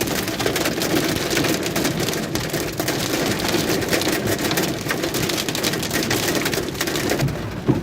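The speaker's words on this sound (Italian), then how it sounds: "Grandinata" A hailstorm in the Rivoli area near Turin, heard as a dense, continuous loud pelting and drumming on surfaces that holds steady throughout with no voices.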